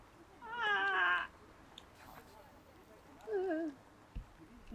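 A cat meows twice, a long drawn-out call followed by a shorter, lower one, fairly close in a quiet countryside setting with a faint knock between.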